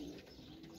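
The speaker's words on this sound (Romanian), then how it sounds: "poate e un porumbel bun" A pigeon coos softly in a single brief, low murmuring call, faint and distant against a quiet background hiss.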